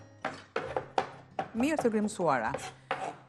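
A knife chops parsley on a board in quick, irregular taps while a person talks over it.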